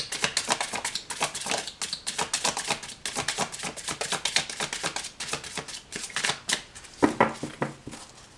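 Oracle cards riffled and shuffled by hand in a rapid run of crisp, papery flutters and snaps, close and steady throughout, with no talking.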